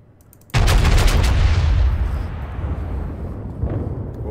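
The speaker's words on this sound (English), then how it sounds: "Opening fire." Battleship main guns fire in the naval combat game World of Warships aboard the North Carolina BB-55, a sudden loud booming blast that rolls into a long rumbling decay, with a fainter follow-up thud.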